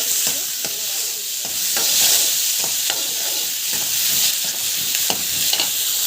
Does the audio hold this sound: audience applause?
no